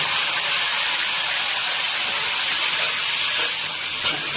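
Loud, steady sizzle of goat intestine dropped into hot oil with fried onions, a continuous bright hiss that fills the clip without pause.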